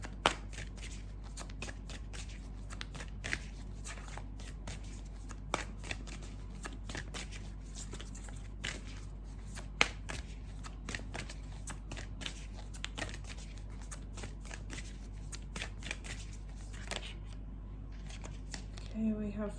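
Tarot advice cards shuffled continuously by hand, a long steady stream of close, crisp papery riffles and snaps over a low steady hum, with a soft voice occasionally under the shuffling.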